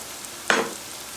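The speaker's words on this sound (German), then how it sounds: "Wenn dann der Sellerie ein bisschen angeschwitzt ist, kommen jetzt eben die Zwiebeln noch mit dran" Celery, onions and garlic go into a hot Dutch oven for a deer goulash, giving one sudden loud hiss that quickly fades back to a faint background sizzle.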